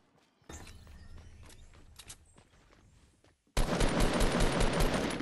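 Fortnite players exchange gunfire: scattered shots and clatter crackle at first, then after a short pause a loud, dense burst of rapid automatic fire erupts and carries to the end.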